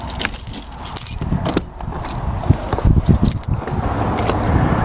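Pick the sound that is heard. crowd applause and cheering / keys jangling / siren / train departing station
keys jangling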